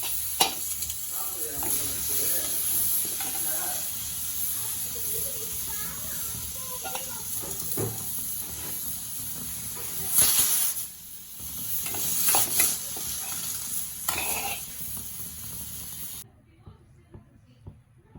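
Spices frying and sizzling in hot sesame oil in a kadai for a Tamil pepper curry, a steady close crackling hiss with brief louder bursts of stirring and spattering.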